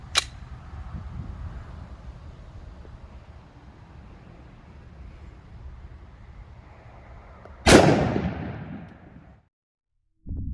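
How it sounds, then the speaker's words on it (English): A 10mm pistol loaded with Liberty Civil Defense 60-grain ammunition fires two sharp, loud shots several seconds apart, the second followed by a short echoing decay over a low outdoor rumble. "I'll go ahead and shoot it one more time lower and see what we get"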